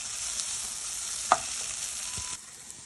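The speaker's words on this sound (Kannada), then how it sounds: "ಗೋಲ್ಡನ್ ಬ್ರೌನ್ ಆಗೋವರೆಗೂ ಫ್ರೈ ಮಾಡೋಣ." Paneer cubes fry in ghee in a pan, a soft steady sizzle with a brief clink or stir near the middle, close and clear with no talking.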